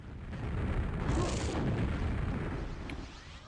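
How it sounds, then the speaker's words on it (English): A grenade explodes in a Quakeworld duel, one loud, rumbling boom that swells and then fades over a few seconds. "That grenade hit!"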